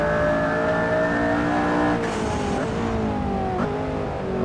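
A Radical SR3 XXR race car accelerates hard, its engine note loud and close, climbing steadily through the gears with brief dips between shifts and no talk over it.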